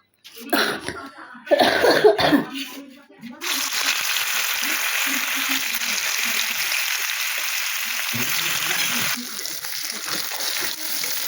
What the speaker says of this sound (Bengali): এবার পনির পনিরগুলোকে হালকা করে ভেজে নেব